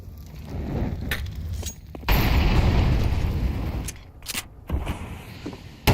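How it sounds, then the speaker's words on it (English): Grenade blasts in a Counter-Strike esports match, loud booming bursts at close range, one heavy explosion about two seconds in that rumbles on for a couple of seconds, with sharper pops and crackles after it and no voices. "the grenades have forced it around the corner"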